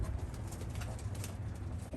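Racing pigeons in a loft coo repeatedly in soft, low, overlapping calls throughout.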